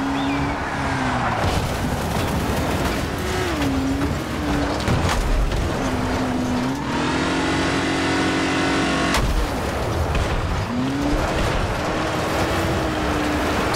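A car engine in Dying Light: The Following drones loudly and continuously while driving, revving up and down in pitch with gear-like shifts and mechanical rattles. A strong sustained rise comes near the middle.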